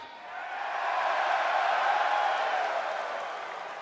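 Wrestling arena crowd on Raw reacting with a broad, steady roar of mixed boos and noise that swells and then slowly fades, heard from a distance.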